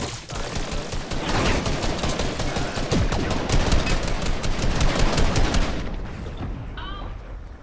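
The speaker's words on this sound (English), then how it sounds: "they're shooting to both sides of us" Dense rapid gunfire from a Fortnite match rattles almost continuously for about six seconds, loud and close, then cuts off, followed by a brief voice.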